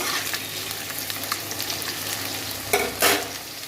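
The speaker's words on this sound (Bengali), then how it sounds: "আলুটা একটু লাল লাল করে ভেজে নেবো" Potato pieces fry in oil with bay leaf and cumin in a pan, a steady close sizzle with a few sharp scraping stirs near the end, no voices.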